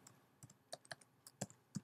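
Quick, irregular clicks of typing on a computer keyboard, about eight close keystrokes spaced unevenly across a short burst in a quiet room.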